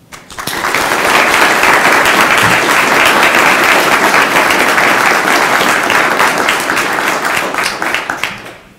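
A full crowd at a 2021 Air Force ROTC commissioning ceremony applauds loudly to welcome Major General Kilo, sustained dense clapping that swells quickly, holds strong for several seconds and then tapers off at the end.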